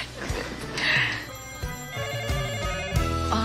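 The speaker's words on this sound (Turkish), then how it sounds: "Aa, telefon çalıyor." A telephone rings in an office, a repeating electronic ring pattern that stands out clearly and stays close, with no talking over it.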